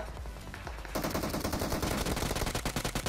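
Rapid automatic gunfire from the video game PUBG Mobile rattles in a fast, even burst that starts after a short lead-in and continues loud and close to the end.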